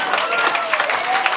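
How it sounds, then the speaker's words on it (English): Short burst of audience applause for a performer at a club comedy show, dense clapping with some crowd voices mixed in, fairly loud and close throughout. "Again, a big round of applause for John."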